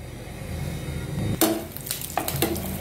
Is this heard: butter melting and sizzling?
yes